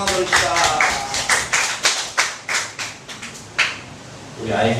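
A church congregation claps in praise to God, sharp irregular bursts of hand claps rising and fading in short waves, fairly close, with a brief voice near the end.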